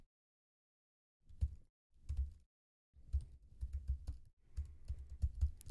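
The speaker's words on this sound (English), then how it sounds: "To do this, I'm just going to type in some HTML5" Typing HTML on a computer keyboard, heard as several bursts of key taps separated by pauses, close and fairly quiet, with no talking.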